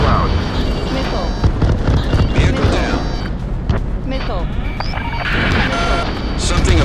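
Missiles explode and boom repeatedly in the jet combat game Ace Combat 7, dense layered blasts and rumbling over game music and radio chatter, loud and continuous.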